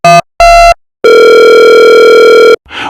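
Telephone call tones, loud and clean: two short beeps separated by silence, then one long steady tone lasting about a second and a half, ending in a brief noisy crackle.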